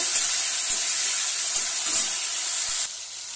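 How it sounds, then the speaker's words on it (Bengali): Chopped tomato frying in a pan for a pointed gourd and rohu fish curry, a loud continuous sizzle and hiss with faint stirring knocks underneath, easing slightly toward the end, with no one speaking. "টমেটো কুচিটাকে ভালো করে আমি নেড়ে নেব"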